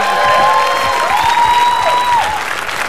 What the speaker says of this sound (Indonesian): Tepuk tangan dong buat peserta kita.